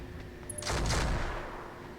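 A short burst of gunfire in the BattleTech game, a single muffled volley with a brief rumbling tail, moderately faint against a quiet background.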